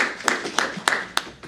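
Board meeting attendees clapping, a few slow, evenly spaced claps close by, about four distinct hits over a second and a half.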